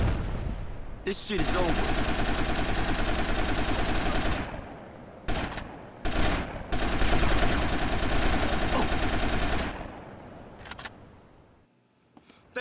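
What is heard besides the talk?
gunfire in a three-way gunfight, from the video game GTA: Vice City Stories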